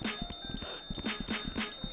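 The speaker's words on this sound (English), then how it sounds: "Chill with the bell." A small bell rung over and over in a quick, uneven rhythm, close by and fairly loud, bright metallic dings repeating throughout with no speech.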